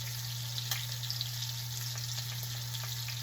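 Lamb chops sear in a hot pan, giving a continuous soft sizzle and crackle with small pops, steady and fairly quiet, with no voices.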